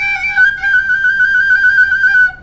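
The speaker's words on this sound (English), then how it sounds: "One's called a trill," A bright, metallic trill on a metal penny whistle, rapidly alternating between two close notes, sustained for a couple of seconds before stopping cleanly.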